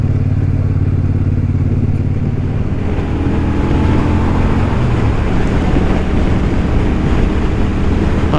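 Loud, steady wind roar buffets the rider on a Royal Enfield Super Meteor 650 cruising along a motorway into a headwind, with a low engine drone underneath throughout.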